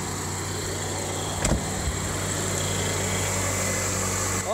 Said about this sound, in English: Purrs like a kitten. Wow, that's a good sounding engine